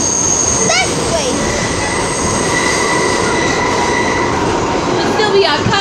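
An L train subway rumbles loudly and steadily, with high metallic wheel squeals rising over the constant roar of the cars.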